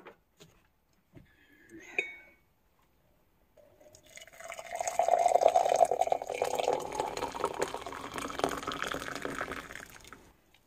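Water is poured into a tea mug, a few small clinks and taps first, then a gurgling pour that rises and fills, fading off after several seconds.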